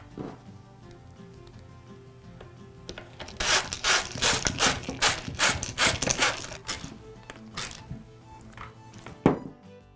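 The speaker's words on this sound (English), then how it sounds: "Now replace the rear belt guard and secure it with the screws." Screws being driven in to fasten the rear belt guard on a Makita cut-off saw, a quiet start followed by a run of rapid ratcheting clicks and a final sharp click.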